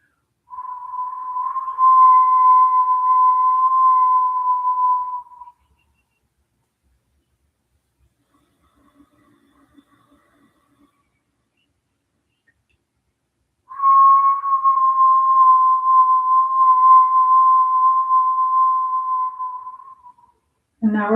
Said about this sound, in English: Exhale with a whistle breath.